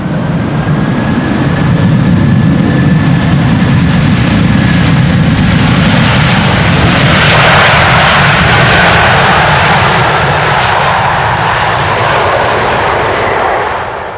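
Jet airliner engines spool up at Amsterdam Schiphol's Polderbaan runway 18R on a windy day, a loud, steady roar with a rising whine that fills the whole stretch and is heard up close outdoors.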